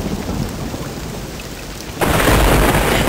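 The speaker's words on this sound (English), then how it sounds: "the rain pours down" Heavy rain pours down in a thunderstorm over parched African land; a steady hiss of rainfall swells abruptly to a louder, denser downpour with rumbling thunder underneath, no voices.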